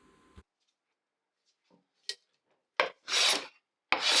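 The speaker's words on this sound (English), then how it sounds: "I am planing both their edges at the same time." Hand plane working the edges of curly maple boards, a few short scraping rasps from separate strokes followed by two louder, longer shaving passes, close and otherwise quiet.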